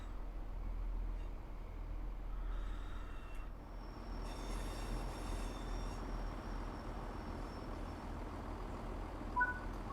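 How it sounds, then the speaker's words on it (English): A train in the Train Sim World 4 video game rumbles along steadily, muffled as if heard from inside the cab, with faint squeals and a brief high tone rising over the low rolling noise. "Train."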